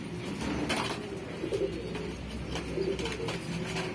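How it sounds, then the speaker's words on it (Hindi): Pigeons coo softly in a loft, several low rolling calls repeating close by against a steady background murmur. "पूरे दरबे का सबसे खूबसूरत कबूतर तो खुद ही सब एक से एक है"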